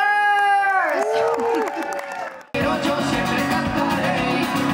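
A crowd at a celebration party in Marbella, Spain, bursts into loud, sustained applause and cheering for a band, following a brief amplified voice at the start.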